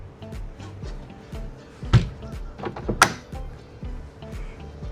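A cabin door on a 24-foot MarineMax 240 Dorado boat is handled and stowed, giving hollow thumps and a couple of sharp knocks against fiberglass, close and fairly quiet amid low background noise.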